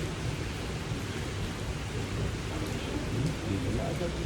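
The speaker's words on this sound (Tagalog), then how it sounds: "Talagang grabe kung bumuhos ng ulan." Dense, roaring downpour in Dubai with low rolling thunder underneath, loud and continuous throughout.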